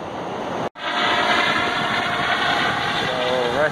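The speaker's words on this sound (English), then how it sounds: "Rescue helicopter." A rescue helicopter passes over a beach, its engine a loud, steady roar with a rising whine near the end and one brief dropout early on.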